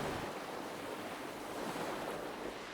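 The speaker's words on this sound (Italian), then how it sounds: "I suoni dell'imbarcazione stessa mentre affronta l'onda, i legni che comunque si muovono simultaneamente al moto ondoso." Sea waves washing steadily around a traditional wooden boat off Sant'Antioco, a continuous close rushing surf with wind, no voices.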